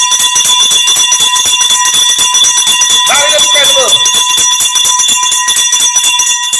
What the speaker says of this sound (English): Ring the bell one more time for Madam Ambassador.